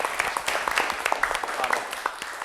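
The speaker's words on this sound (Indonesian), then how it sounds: "tepuk tangan untuk kelompoknya Adit" Classroom applause for a student group's presentation, a patter of scattered claps from a small group of students, steady and moderately near across the moment, with voices talking faintly underneath.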